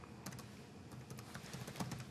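Steady typing on a computer keyboard while entering an email address into a web form, with quick, uneven keystrokes clattering continuously at close range and no voices.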